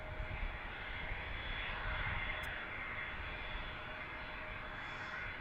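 Airliner departing Washington DCA seen from Gravelly Point, a low, fairly faint and steady jet engine rumble that stays level across the whole stretch with no voices.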